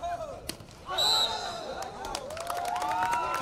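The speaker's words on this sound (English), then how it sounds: "Now the crowd just cheering each and every point" Home fans cheer loudly for Nagaland at an indoor volleyball match against Mizoram at the 3rd North East Games 2024, with ball thumps and shouts under the steady roar and a commentator talking over it.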